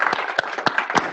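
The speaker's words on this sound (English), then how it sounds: "I'll give him a round of applause." A small meetup audience gives a brief round of applause, with several distinct claps standing out over a lighter patter of hands.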